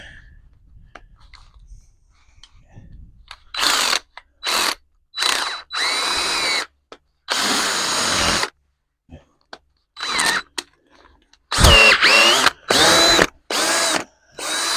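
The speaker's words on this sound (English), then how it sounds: "So I'll take a drill with a wire brush attachment." A power drill with a wire brush attachment runs in repeated short bursts with pauses between, its whine grinding harshly as the brush scrubs a surface.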